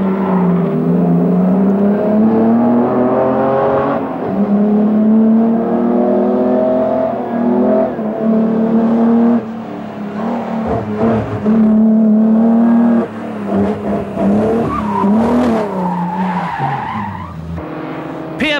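A Jaguar rally car on the Stelvio Pass during the 1989 Classic Marathon Rally roars close and loud. Its engine note climbs and drops through repeated gear changes every few seconds, with a brief tyre squeal.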